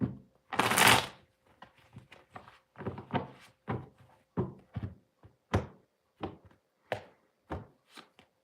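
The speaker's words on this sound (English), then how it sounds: "One more shuffle for you." Tarot cards being shuffled by hand, a sequence of soft, dry riffles and taps in an irregular rhythm, close and fairly quiet against a silent background.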